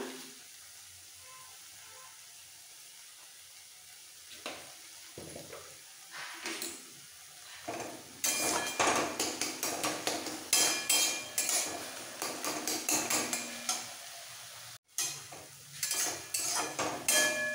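Water spinach greens being fried and stirred in a pan for kolmi shak bhaja, a quiet start giving way to a steady sizzle with repeated scraping and clinking of a utensil against the pan, fairly close and without talk.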